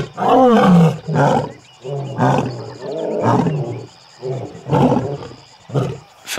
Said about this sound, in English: You cannot get sick of a lion roaring.